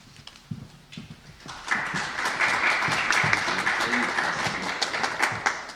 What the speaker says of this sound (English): You shouldn't applaud yet.